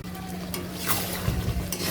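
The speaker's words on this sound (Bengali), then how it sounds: "কষাতে দিই" Chicken curry meat and potatoes being stir-fried in a covered pan for Bengali kosha, with a steady soft sizzle and occasional stirring scrapes, close and continuous with no talking.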